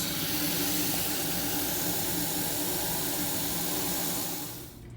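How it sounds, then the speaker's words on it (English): Water poured into a coffee maker to make a water-and-vinegar cleaning mixture: a steady, close rushing hiss of flowing water that holds evenly, then cuts off abruptly at the end. "now it's time to add water, and we're going to add the water up to the full pot"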